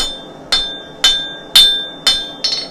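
Five sharp hammer blows land on hot steel round stock over an anvil, evenly spaced about half a second apart, each leaving a bright metallic ring that decays before the next strike.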